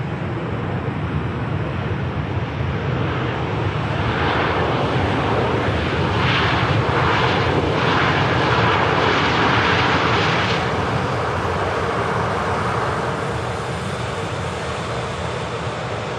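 A Jet2 passenger jet touches down at an airport, its engines giving a loud, broad, steady roar that swells slightly midway and holds close and constant throughout.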